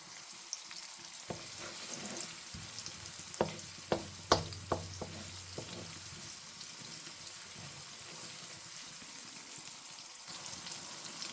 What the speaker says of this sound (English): let's leave our onions to fry